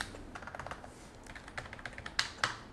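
Keys clack on an Ocelot Gaming MX OGEK03 mechanical keyboard held close to the mic, a quick, uneven patter of crisp clicks that grows louder near the end, with no voices.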